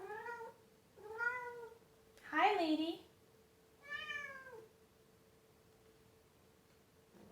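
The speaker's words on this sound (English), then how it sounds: "My cat's arrived." A pet cat meows several times at close range, a few distinct calls with one louder, higher cry in the middle, while a woman briefly greets it and a steady low hum runs underneath.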